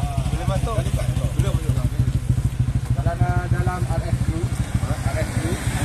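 A motorcycle engine idles steadily close by at a Malaysian border checkpoint, a low, even rumble running the whole time with people talking over it.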